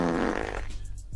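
A short, loud, wet fart sound effect plays on a radio show, a single blast that trails off, with no talking over it.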